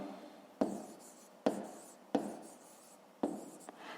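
Four sharp pen-on-paper strokes, each a crisp tap followed by a scratchy trailing scrawl, spaced about a second apart as someone writes out a math exercise; close, quiet, with no talking.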